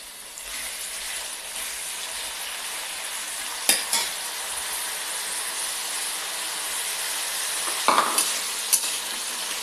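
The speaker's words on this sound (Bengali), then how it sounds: "ভালো করে এটাকে ভাজতে হবে পেঁয়াজটাকে।" Onions fry in a pan for a cauliflower roast, a continuous close sizzle with occasional spatula scrapes and clacks against the pan, steady and without talk.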